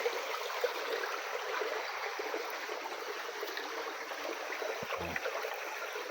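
A shallow stream of clear water flows steadily behind a house, a constant close trickle and splash with a soft thump near the end and no voices.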